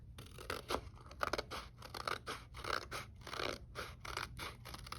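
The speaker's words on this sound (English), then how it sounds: "I'm going to take my scissors and I'm going to carefully cut" Quiet, rhythmic snipping of scissors cutting through paper, a rapid series of crisp cuts up close with no speech.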